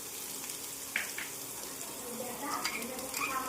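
Whole cumin seeds and chopped onion fry in hot oil with a continuous close sizzle, a few brief spoon scrapes and clinks breaking through and faint speech underneath.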